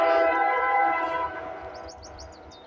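A Canadian Pacific freight train passes. A strong, sustained horn tone opens and fades as the train rolls away, and light bird chirps follow near the end.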